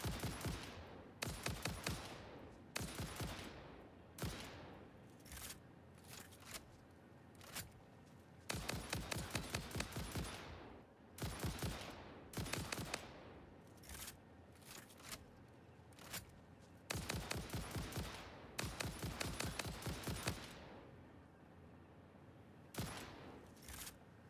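Rifle fire in the video game Satisfactory comes in repeated rapid bursts separated by short pauses, crisp and fairly quiet, with no talking.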